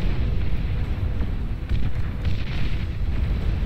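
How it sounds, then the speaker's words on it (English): Missiles launch and explode in the strategy game Beyond All Reason, a loud, continuous rumbling barrage of booms and blasts that rolls on without a break. "Missiles firing away."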